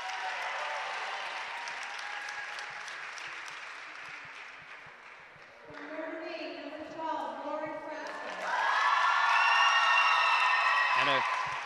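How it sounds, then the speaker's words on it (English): Applause from a crowd fills the gym at a girls basketball final, Notre Dame against St Paul, with sustained clapping, some whoops, and swelling louder near the end while an announcer speaks over it. "Great thunderous applause for Lauren Frasca, number 12, and Notre Dame"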